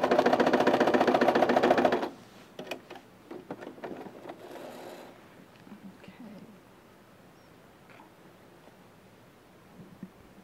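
A sewing machine stitches shirring on a summer dress, running in a loud continuous burst for about two seconds, then stopping, leaving faint rustling and handling noises.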